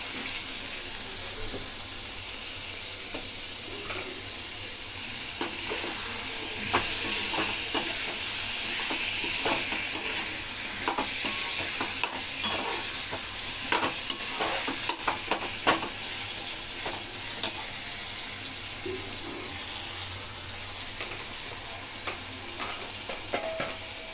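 Potatoes for a bhindi-aloo dish fry in a pan while being stirred, giving a steady, close sizzle with frequent scraping and clattering strokes throughout.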